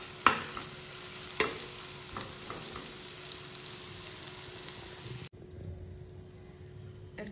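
Broccoli, peas and potato frying in a pan with a steady sizzle and a couple of sharp clanks of a utensil early on, close by, with the sizzle dropping abruptly near the end.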